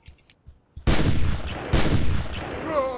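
Shotgun in the video game Carnivores+, a few faint clicks, then two loud booming blasts about a second apart, each with a long decaying tail.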